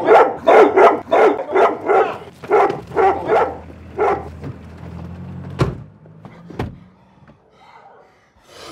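A dog barks loudly in a quick rhythmic burst of about a dozen sharp barks close by, then falls quiet apart from a couple of thuds and faint background noise.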